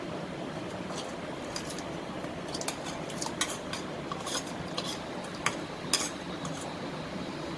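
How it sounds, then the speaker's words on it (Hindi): A spoon stirs rice kheer in a pot, producing a continuous soft scraping swirl with occasional light metallic clinks against the pot, close up and without talk. "और मुस्तकिल चमचा चलाते हुए इसे पकाऊंगी जब तक ये गाढ़ी न हो जाए।"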